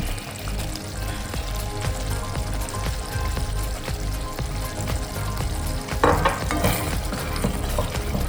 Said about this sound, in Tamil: இப்போ கொஞ்சம் கடைசியாக கொஞ்சம் நல்லெண்ணெய் ஊற்றிக்கலாம்